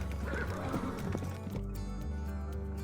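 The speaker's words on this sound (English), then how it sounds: "A messenger on a dusty horse skidded to a stop in the small town market." A dusty horse skids to a stop in a small town market, whinnying loudly up close with a clatter of hooves, then settles into a quieter stretch.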